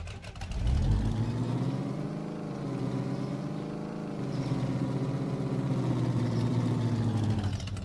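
A car engine in the Supermarket Simulator video game hums steadily and close for several seconds, with a sustained mid-pitched drone that swells slightly as the vehicle drives along.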